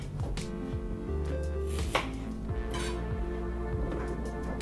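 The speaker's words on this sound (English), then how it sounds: "when I'm cutting the platanos, I'm gonna slice the ends off" A knife slices the ends off plantains on a cutting board, making a few distinct knocks and sharp clicks against a steady background hum.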